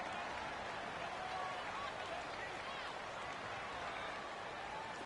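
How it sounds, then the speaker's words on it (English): Crowd roar from a stadium in a PS4 football video game during a fourth-quarter third down, a dense, steady wash of cheering and noise held at an even level throughout. "The crowd getting into it as we come up on a big 3rd down."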